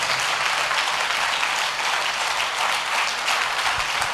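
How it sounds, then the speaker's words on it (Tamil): Church congregation at a night prayer service clapping their hands together in praise, a dense, steady wash of applause lasting a few seconds, fairly close, with no speech over it. "நல்ல கைத்தட்டி கர்த்தரை மகிமைப்படுத்துங்க பார்க்கலாம்."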